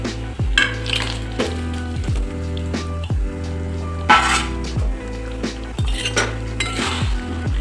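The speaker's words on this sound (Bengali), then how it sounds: "মিনিট দুয়েক মতো আমি ফুটিয়ে নিয়েছি এর মধ্যে আমি কষানো সবজিগুলো সব ফেলে দেবো" Fried vegetables for milk shukto are tipped from a metal utensil into a pot of simmering milk, heard as a string of ringing metallic clinks and taps at a steady pace, close and clear, with soft wet thuds between them and no speech.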